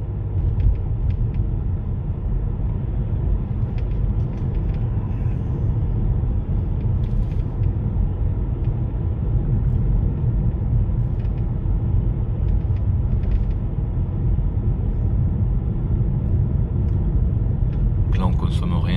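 Steady low rumble of a Toyota C-HR hybrid car being driven, running quietly on electric power, a constant muffled cabin drone with faint creaks and clicks and no other sounds.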